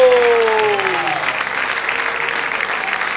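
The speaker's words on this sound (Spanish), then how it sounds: "denle un aplauso a Él" A church congregation applauds, with a broad, steady wash of clapping that holds for several seconds. The last of a sung or spoken tone fades out underneath it at the start.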